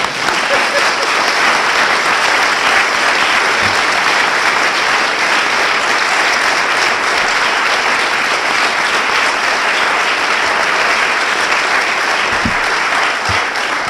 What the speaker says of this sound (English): All those in favor, applaud.